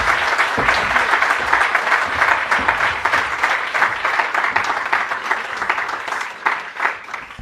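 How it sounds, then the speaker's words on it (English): A lecture audience at the Hertie School in Berlin welcomes a guest speaker with a full round of applause, loud and sustained, its many hands swelling and dipping slightly throughout. "please join me in giving a warm round of applause to our distinguished guest speaker, Mr. Rahul Gandhi."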